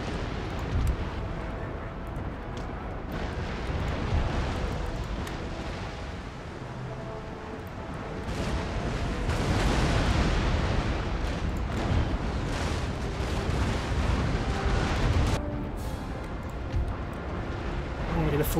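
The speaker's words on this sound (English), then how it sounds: "Full broadside off, but I might as well fire what guns I have." Naval cannons fire broadsides in an Empire Total War sea battle between a US and a huge French fleet, with repeated rumbling booms and crackling volleys rolling on throughout while someone talks over them.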